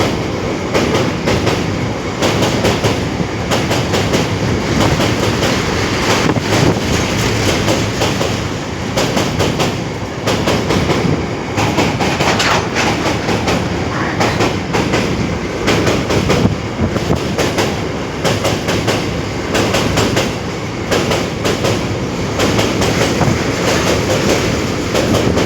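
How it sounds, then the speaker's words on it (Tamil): Freight train of goods wagons rolling slowly across an old bridge, steady rumbling with rhythmic clickety-clack of wheels on rails, loud and sustained, nobody talking. "இது வந்து ஓல்டு பாலம், அதனால் ட்ரெயின் இதில் வந்து ஸ்லோவாக தான் வரும்"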